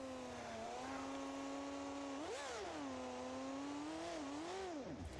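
A supercharged V10 engine in BeamNG.Drive revs and climbs through the gears, a continuous loud tonal whine that rises and falls in pitch with a sharp surge midway and a drop at the end, with no talking.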